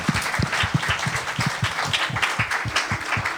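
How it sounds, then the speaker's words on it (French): A church congregation applauds during a worship service, a lively burst of many hands clapping with uneven, overlapping claps that carry on steadily, close and fairly loud. "Est-ce qu'on peut acclamer le Seigneur Jésus?"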